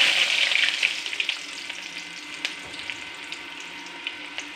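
Mustard seeds crackle and spit in three spoons of hot coconut oil in a pan for a jackfruit erissery, a steady close sizzle with scattered sharp pops that fade slightly after the first second.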